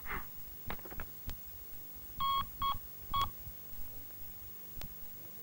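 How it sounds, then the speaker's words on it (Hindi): A telephone is dialed to call a doctor in a Hindi horror film: several short, distinct keypad tones in quick succession, heard close and clear between soft handling clicks. "रुको मैं डॉक्टर को फोन करता"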